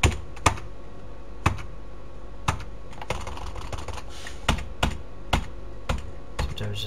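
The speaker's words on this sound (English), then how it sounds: "Sometimes it's just easier to use the keyboard." Someone types on a computer keyboard, sharp key clicks coming in uneven bursts and single taps, close and clear, with no talking.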